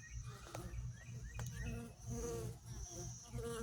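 Close, steady buzzing of honey bees humming continuously around a flowering plant, with soft fluctuating drone and faint crackles in the background.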